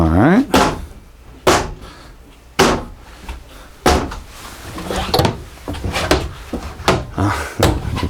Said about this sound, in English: Closing doors all day